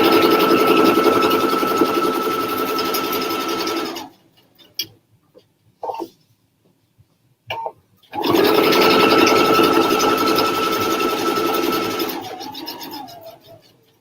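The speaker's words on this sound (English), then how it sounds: "So I'm just stitching right along the edge of this foam." A Pfaff sewing machine stitches along the edge of foam in a loud, fast, steady whirring run, stops for a few seconds with only small clicks, then resumes the same loud whir before slowing and fading.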